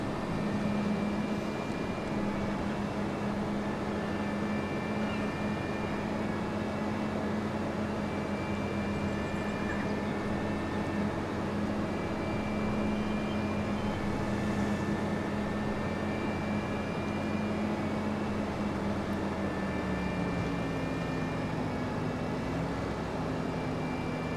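Bees swarm the flowering wild apple trees on a Farming Simulator 25 farm, making a steady, airplane-like droning hum that holds at an even level for the whole stretch, with no talking.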